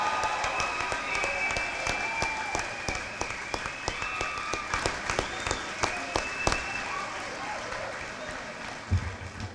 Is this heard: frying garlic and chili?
no